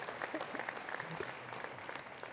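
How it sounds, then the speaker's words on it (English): Conference audience at an opening plenary applauding, a short faint burst of scattered clapping heard from a distance. "You can clap for GRESB."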